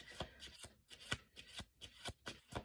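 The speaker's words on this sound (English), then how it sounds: "We'll do 2 more shuffles." Tarot cards being shuffled by hand, a quiet series of soft riffling bursts in an uneven rhythm, about eight flutters close by with brief pauses between them.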